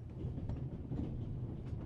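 A train rumbles along in The Raven: Legacy of a Master Thief, a low steady rolling drone with faint rhythmic clatter heard from inside a carriage, without speech.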